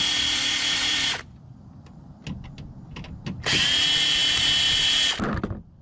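A power drill removes screws from an old computer's CD-ROM drive, two loud whirring bursts of about a second each separated by clicks and handling noises, recorded close.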